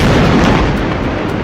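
Bomb explosion of a kind dropped from aircraft to strike underground bunkers, heard as a loud, close blast that rolls into a dense, rumbling roar.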